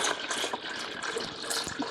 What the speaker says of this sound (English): So I'll pour the water here up to,